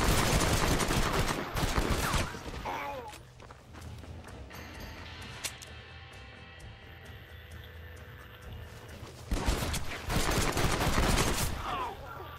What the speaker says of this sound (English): It's fucking machine gun.